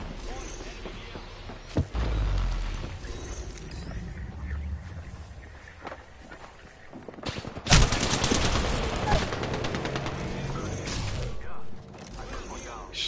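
Gunfire in the video game Apex Legends, sharp shots and a dense rattling burst mixed with mechanical clatter and game noise, moderately loud amid busy background sound.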